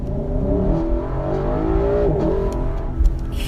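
A Lexus LC500 accelerates on a test drive, its engine note rising in a steady, full-throated drone heard from inside the car, loud and continuous with no talking.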